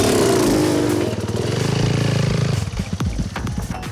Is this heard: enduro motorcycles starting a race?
yes